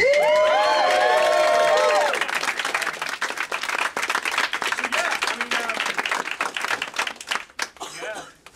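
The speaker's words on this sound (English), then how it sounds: "just give a massive clap to Andy" Audience applauding and cheering for Andy at a gathering, dense clapping with whoops and shouts that starts loud, then thins into scattered claps under chatter and talk.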